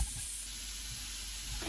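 Rabbit pieces cook in a hot pan with a steady, close sizzle and soft hiss, continuous and even throughout.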